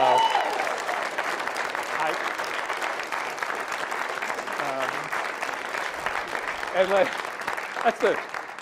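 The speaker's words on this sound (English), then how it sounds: "that is the longest round of applause I got tonight." Long, sustained round of applause from Democratic activists at a New Hampshire meeting with a senator, dense steady clapping throughout with occasional voices and cheers rising above it.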